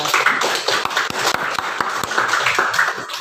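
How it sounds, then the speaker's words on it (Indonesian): A classroom group claps briefly, with sharp, uneven hand claps overlapping for a few seconds. "Oke, tepuk tangan buat kelompok."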